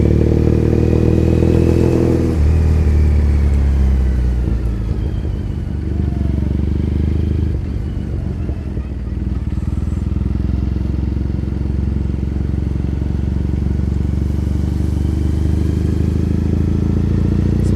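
Motorcycle ridden through Tokyo streets, a close, steady low engine drone with rises and dips as gears shift, plus wind and road rumble, and no talk over it.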